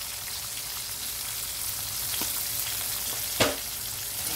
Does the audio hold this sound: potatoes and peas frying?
yes